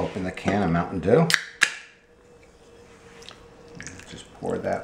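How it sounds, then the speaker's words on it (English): A can of Mountain Dew cracks open with a sharp pop and brief fizz in a kitchen during apple dumpling preparation, preceded by talk and followed by quiet hiss. "Then open the can of Mountain Dew."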